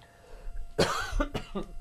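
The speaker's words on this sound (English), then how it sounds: "And you're coughing." A few harsh coughs in quick succession, close and loud, with short gaps between bursts.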